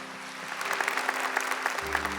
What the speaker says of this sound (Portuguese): Uma salva de palmas para Nossa Senhora.